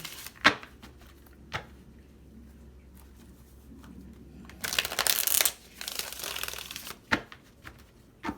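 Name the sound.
shuffling cards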